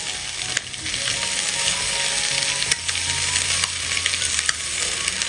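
Filling being mixed as it fries in a pan for a no-deep-fry iftar snack, constant loud sizzling with intermittent scraping and clinking of the spatula against the pan, no talk.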